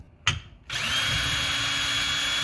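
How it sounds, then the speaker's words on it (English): A power drill with a socket attachment loosens bolts under a Tesla Model 3. After a short knock, the motor spins up and whirs at a constant high pitch until the end. "I use a drill because it's way faster, especially being under the car."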